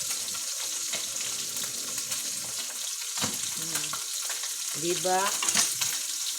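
Food sizzles and fries steadily in a pan, a constant crackling hiss with occasional stirring, while a voice speaks briefly over it.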